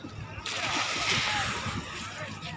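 A rescuer in an NDRF mock drowning-rescue drill jumps into the water, making a sudden loud splash followed by continuous sloshing and churning close by.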